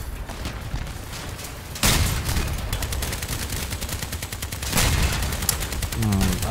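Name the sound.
gunshots in a video game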